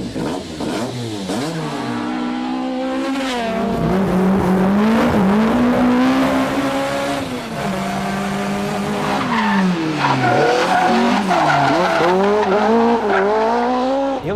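A Toyota Corolla AE86 drifts down a Japanese mountain pass, its engine revving hard and rising and falling in pitch while tires squeal and skid loudly and close throughout, with no talk.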